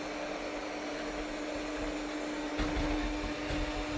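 Yeedi M12 Pro Plus robot vacuum cleaning in a square pattern, a steady mid-level motor whine and suction hum with a constant tone, plus a couple of brief bumps and brushing sounds.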